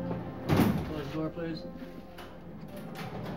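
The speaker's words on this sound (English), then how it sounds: "Close the door," A door swings shut with a single firm thud in a quiet room, a soft close rather than a slam, with a faint low hum behind it.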